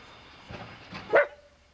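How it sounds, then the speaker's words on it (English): A dog barks a few times at some distance during an Easter gathering, the sharpest bark near the end, with faint background noise and no talk. "The dog barking."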